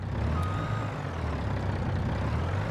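In Farming Simulator 22, a truck idles with a heavy low engine drone while reversing beeps repeat steadily on top, close and constant, no talk.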